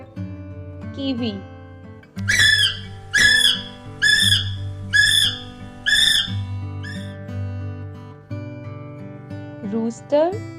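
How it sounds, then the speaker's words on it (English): A kiwi bird gives a series of about six shrill, evenly spaced whistled calls, loud and close, with a brief voice at the start and end. "Kiwi,"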